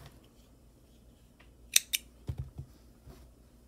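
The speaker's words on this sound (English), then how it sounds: "Cut your yarn" Scissors snip through yarn while crocheting a baby boy's romper: two quick, crisp, close cuts in a row, followed by faint soft handling sounds, with no talking.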